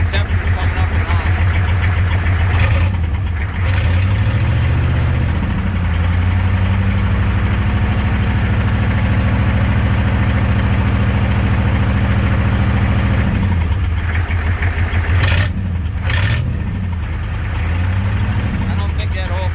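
An International 7.3L IDI diesel, left sitting in a field for decades, idles loudly up close with a steady low clattering rumble, and brief voices break in now and then.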